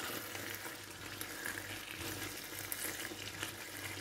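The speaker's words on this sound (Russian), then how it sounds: "А там все вода выкипячивается." Water boils off with a quiet, steady sizzle and bubbling as a pie cooks in a pan, soft and continuous at close range with no voices.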